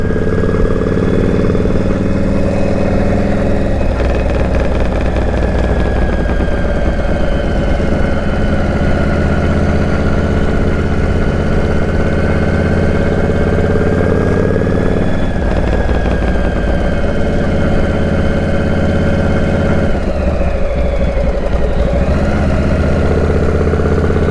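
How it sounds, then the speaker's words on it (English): A Harley-Davidson Panhead motorcycle engine idles steadily for a long stretch, a close, loud rumbling throb with slight shifts in tone and no talking. "let y'all enjoy the sound of my motorcycle."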